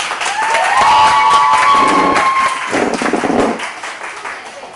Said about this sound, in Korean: 여러분의 큰 박수로 맞아주십시오